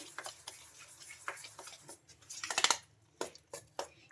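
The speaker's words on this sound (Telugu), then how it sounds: "ఒకసారి మొత్తం బాగా కలిపేసుకుందాం ఇందులో బాగా కలిసిపోయేలాగా బాగా కలిపేసుకోవాలి" Egg and wheat rava batter being mixed in a bowl with a spoon, giving quiet wet scraping strokes and sharp clinks of the utensil against the bowl in an uneven rhythm, close and otherwise quiet.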